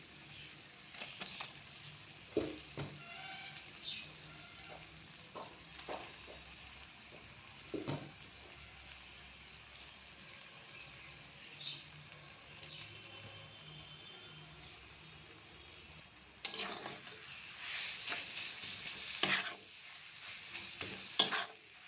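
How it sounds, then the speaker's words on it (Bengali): Taro frying with spices in a pan over a low flame, soft steady sizzling punctuated by scraping stir strokes, with a louder burst of stirring and clatter near the end; no talking. "আস্তে আস্তে কচুটা ভাজতে হবে যাতে মশলার সাথে ভালোভাবে মিশে যায়"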